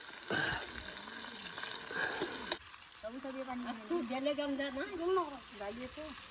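Tomato pieces sizzle and fry in a hot pan during home cooking, a steady crackling hiss beneath a voice speaking close by, with the sizzle loudest in the first few seconds.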